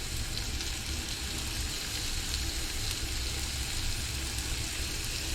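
Meat and onions sizzle steadily in a hot pan for a breakfast fajita, a continuous close, even hiss with no talking.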